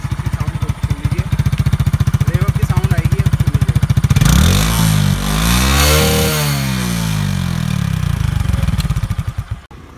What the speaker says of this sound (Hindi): इसको इग्निशन एक बार ना स्टार्ट करके दिखा देता हूँ कि इग्निशन की साउंड कैसे आती है